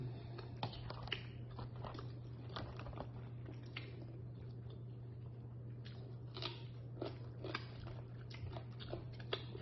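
Someone eats a giant 5 lb lobster up close, with repeated wet bites, chewing and soft squishy cracks scattered over a low steady hum, with no talking.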